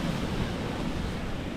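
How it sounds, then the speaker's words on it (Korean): Ocean waves wash onto a beach in a steady, broad roar, with wind buffeting the microphone throughout and no voices. "파도가 많아서"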